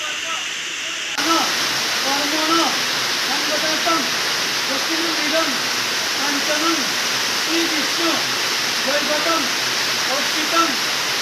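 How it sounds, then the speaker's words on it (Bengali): Heavy rain pours steadily all around outdoors, a dense continuous wash of falling water with dripping and splashing close by, starting after a brief quieter moment and holding loud throughout. "দেখো প্রচুর পরিমাণে বৃষ্টি হচ্ছে চারিদিকে জল এসে পড়ছে"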